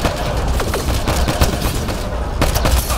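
Rapid, dense gunfire from a Mass Effect: Andromeda firefight, with loud, closely spaced shots rattling continuously over a rumbling battle background.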